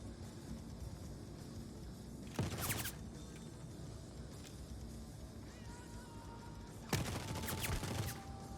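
Gunfire in the space game Star Citizen comes in two short rattling bursts, a few seconds apart, over a constant low engine hum, fairly distant and not very loud.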